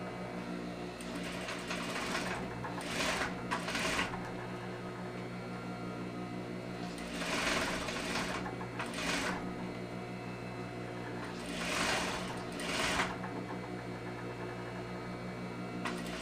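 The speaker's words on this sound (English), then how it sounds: "you're going to stitch a little bit inside of the seam allowance" Domestic sewing machine stitching a separating zipper with a facing, near the seam allowance, in several short whirring bursts of about a second each separated by quiet pauses, over a steady low hum.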